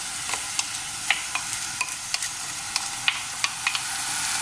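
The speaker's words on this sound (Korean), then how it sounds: "이제 냄비에 지글지글 소리가 올라오면 불려놓은 쌀을 넣어주세요." Kimchi and soaked rice stir-frying in a pot, giving a steady high sizzle broken by a dozen or so sharp clicks and scrapes as a utensil stirs through, moderately close and with no talking.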